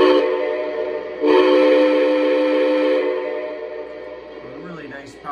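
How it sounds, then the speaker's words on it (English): An O scale model train on a Lionel/MTH layout sounds a loud, rich electronic whistle. It holds a steady blast, swells stronger partway through, then fades down, and a brief voice comes in near the end. "A really nice powerful whistle,"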